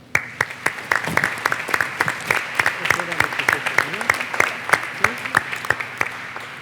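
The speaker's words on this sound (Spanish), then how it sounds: "Quiero pedirles a ustedes que le brindemos otro fuerte aplauso a este gran panel" Scattered applause from a seated audience at a panel on children's voices before the Inter-American Court of Human Rights: a steady run of sharp, separate handclaps lasting several seconds, with voices murmuring underneath.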